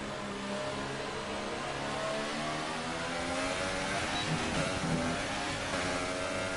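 A Formula 1 car engine in F1 2018 at the Hungary circuit drones loud and close, its pitch sweeping through rising and falling revs with gear shifts as the car drifts through a corner.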